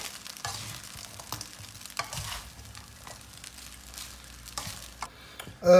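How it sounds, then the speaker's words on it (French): Spaghetti broken into short pieces is stirred with chicken in a crowded frying pan holding enough for four, giving soft, intermittent scraping and shuffling strokes over a quiet, steady sizzle, with a louder knock at the end. "Puis, je mélange le tout."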